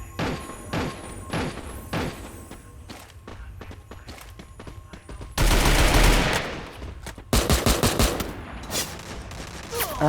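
Gunfire in the mobile battle royale game Free Fire: bursts of rapid automatic shots and sharp single cracks, loud and close, mixed with game footsteps and effects, with no talking over them.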